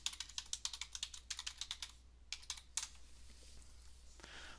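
Rapid bursts of clicking keystrokes on a computer keyboard come in quick runs with short pauses, close and fairly quiet, while a username and password are entered.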